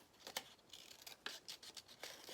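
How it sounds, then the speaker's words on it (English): Scissors snip through paper in a series of short, crisp cuts with slight scratchy rustles between them, quiet and close. "I move my paper as I cut"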